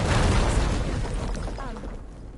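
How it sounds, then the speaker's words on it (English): A wall is blown up in Horizon Forbidden West, a loud, broad explosive boom that hits at once and then rumbles and fades over about two seconds, with a brief voice near the end. "would you mind warning me next time you decide to, blow up a wall?"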